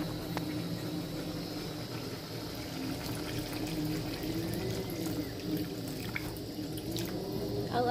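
Water being poured into a pan of fried potatoes for potato curry, a soft continuous splashing and trickle, fairly faint, heard alone without speech.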